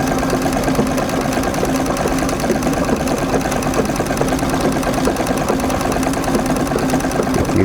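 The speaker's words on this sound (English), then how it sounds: "There's a kind of a combination of machine speed and hand speed that you need to be aware of so that your stitches turn out nice." A sewing machine runs steadily through free-motion quilting on a basket quilt, its rapid needle chatter and motor hum continuous, close and fairly loud throughout.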